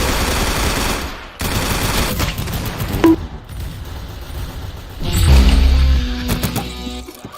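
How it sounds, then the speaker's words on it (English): Video game gunfire crackles in rapid automatic bursts, loud and dense, with brief gaps and a heavier crashing impact near the end over background game sounds. "Very good shooting."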